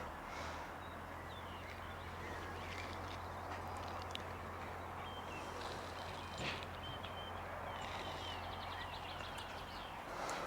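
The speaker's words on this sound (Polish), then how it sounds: "Ptaszki śpiewają, jak możecie usłyszeć" Birds call faintly outdoors at a construction site where a concrete floor slab is being poured, with scattered chirps and caws over a low steady hum and light background noise.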